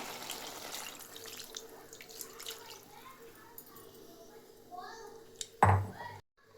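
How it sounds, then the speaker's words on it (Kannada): Water runs and splashes as it is poured into a pot of chicken sambar, a soft steady pour with a few louder splashes near the end, heard under quiet background voices. "ಇದಕ್ಕೆ ನಾವು ಈಗ ಸ್ವಲ್ಪ ನೀರು ಹಾಕೋಣ"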